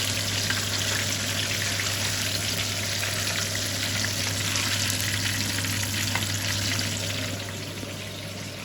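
Chinese samosas frying in hot oil, a steady dense sizzle and crackle that holds close and loud throughout, easing slightly near the end.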